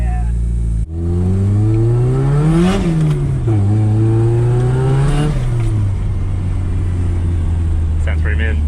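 A Nissan S13 drift car engine with a newly fitted cam starts up loud and close, then revs in two rising and falling blips before settling into a deep, rumbling idle.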